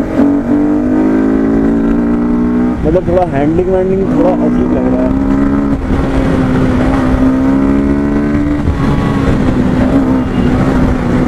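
A Kawasaki Ninja motorcycle engine drones steadily while riding, loud and close with a few brief revs, as a rider talks continuously over it.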